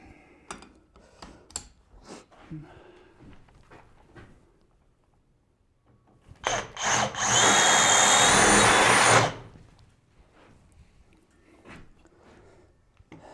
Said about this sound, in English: Going to the long drill bit.